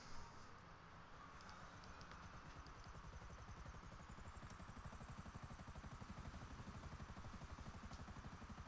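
A helicopter in the video game GTA V gives a steady, fast rotor chop with a continuous engine whine, heard alone and fairly faint.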